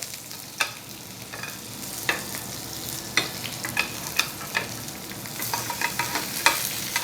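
A sirloin steak fries in butter in a hot pan, the steady sizzle broken by light clinks and scrapes as a spoon bastes the butter over the meat.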